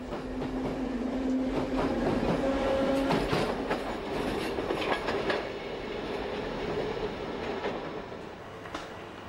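A Berlin S-Bahn Class 477 electric commuter train rolls past steadily, with rail clatter, a humming motor tone, and occasional squealing wheels throughout.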